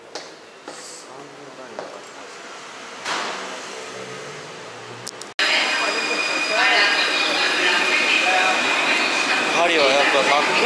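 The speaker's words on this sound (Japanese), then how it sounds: "地下鉄。" A Paris metro train rumbles through a subway tunnel. Quieter station ambience with voices gives way to a sudden loud, steady roar of wheels on rails with a high metallic whine, while people talk nearby.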